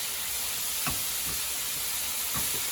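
Mushrooms fry in oil with garlic powder, making a continuous close sizzling hiss, with a few soft knocks and stirring scrapes scattered through it and no voices.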